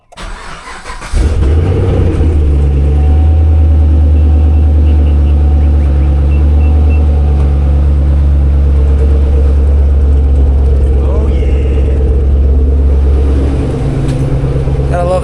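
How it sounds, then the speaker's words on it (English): A Chevrolet Camaro V8 engine cranks and catches, then settles into a loud, deep, steady idle with a low rumbling throb that continues throughout, heard from close by. "the sound of a V8 in the morning"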